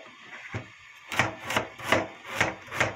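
A knife slices ingredients thinly for seafood doenjang stew on a wooden cutting board, giving six crisp, evenly spaced chopping strokes, close and alone.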